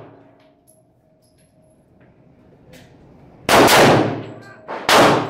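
Two loud, sharp .357 Magnum handgun shots about a second and a half apart, each ringing out and decaying, after a quiet lead-in with faint background noise.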